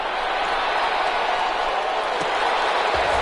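A stadium crowd at a football game applauds the defense, a dense, steady wash of clapping and crowd roar that holds at an even level throughout, with no clear speech.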